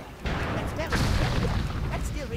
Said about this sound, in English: Fortunately, I'm on the keep cannon